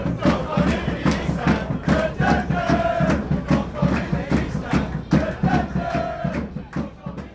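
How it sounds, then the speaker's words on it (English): A packed crowd at a National League South football stadium celebrating a championship, loud rhythmic chanting and cheering that swells in repeated waves and fills the space, with some voices standing out near the front. "Full crowd here, unbelievable."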